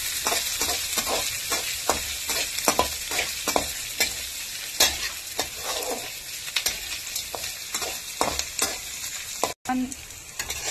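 Onions frying in a pan ahead of brinjal, with a constant close sizzle and repeated spatula scrapes in an uneven rhythm, and a brief dropout near the end.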